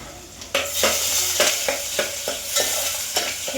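Garlic and ginger paste frying in a hot pan, a bright continuous sizzle broken by repeated scraping strokes of a spatula stirring at a steady rhythm, close and loud.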